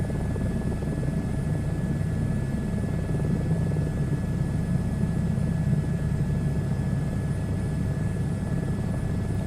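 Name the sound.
helicopter flying at full power in a VR flight simulator game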